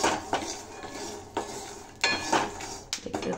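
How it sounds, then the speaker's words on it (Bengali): Peanuts are fried in a pan for poha, stirred with a metal spoon: a handful of close, sharp clanks and scrapes against the pan at irregular intervals, with no talking. "আগে বাদামটাকে ভেজে নিচ্ছি পোহার জন্য"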